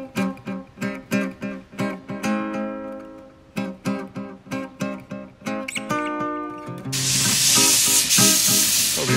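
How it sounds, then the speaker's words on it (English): WD-40 sprayed onto Land Rover Series 2A gearbox bolts: a loud, close, continuous hiss near the end, following a run of rhythmic, tonal, repeated sounds. "maybe a spray of WD-40."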